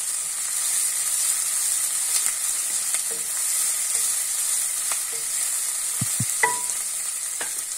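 Chopped onions sauté in a pan, giving a steady bright sizzle throughout with occasional soft scrapes and clinks of stirring.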